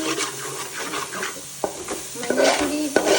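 Chicken curry with turmeric powder sizzles in a frying pan as a spoon scrapes and stirs, a near, busy hiss broken by sharp metallic clinks against the pan.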